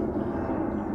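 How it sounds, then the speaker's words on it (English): A fixed-wing airplane passing over a fishing lake, a steady low engine drone throughout a second-long stretch with no other sounds standing out. "Excuse the plane, we're going to have to put up with them today"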